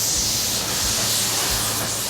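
An old steam locomotive in a railway yard hisses steam in a loud, steady, broadband rush, with faint low thumps underneath.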